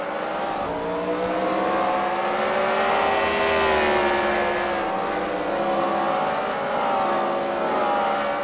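Race cars roar around the track at a CWRL fight night event at The Freedom Factory, engines droning loud and continuous with rising and falling pitch as the pack runs close together, and no talking.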